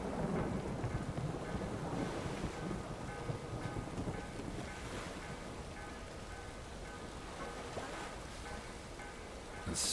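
A thunderstorm in The Witcher 3: Wild Hunt gives a dense, continuous wash of rain and wind with low rolling rumbles, steady and fairly loud for the whole stretch with no speech.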